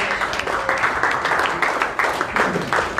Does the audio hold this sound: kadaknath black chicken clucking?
no